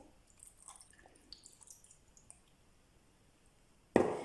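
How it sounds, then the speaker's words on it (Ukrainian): Soy sauce is poured into a kitchen bowl, with faint scattered drips and ticks at first, then a sudden louder, close splash of liquid at the end. "Вливаємо соус у миску"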